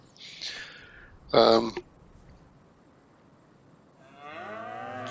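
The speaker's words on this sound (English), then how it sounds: "Got 30 cows in here currently." Dairy cows in a large UK indoor cow barn in a farming video game, with one loud, short moo in the middle, fainter animal sounds around it and someone talking toward the end.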